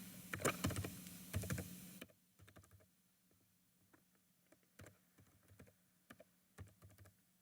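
Keys clatter on a computer keyboard as a password is typed, a dense burst of clicks at first, then sparser, lighter taps continuing alone with no voices.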